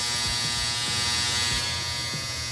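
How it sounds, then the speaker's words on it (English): A household dryer running nearby during indoor plant propagation, a loud, steady electric hum with a high-pitched buzzing tone and faint rhythmic tumbling thumps underneath. "That's my dryer, sorry."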